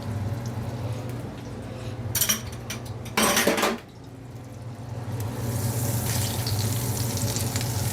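Oil and butter sizzle in a non-stick pan with a steady frying hiss, broken by a few clanks of a utensil against the pan and a louder burst of sizzling partway through.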